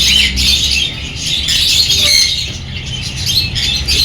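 Pigeons squawk and flap their wings in a pet shop, a dense, continuous chorus of bird calls and fluttering close by, with no talk over it.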